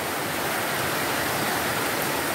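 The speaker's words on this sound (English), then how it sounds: "heavy rain here" Heavy rain during flash flooding in Lae, Papua New Guinea, a steady loud hiss of downpour filling the whole clip without pause.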